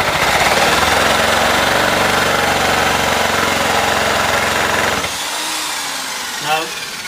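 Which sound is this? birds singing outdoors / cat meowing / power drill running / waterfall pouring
power drill running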